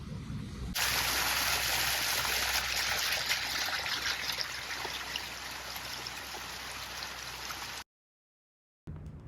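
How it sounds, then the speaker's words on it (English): A waterfall spilling down rocks on the seaweed-covered coastline of Jewell Island, Maine: a steady, dense rushing hiss that fills most of the stretch before cutting out briefly near the end. "But waterfall just coming down the top there"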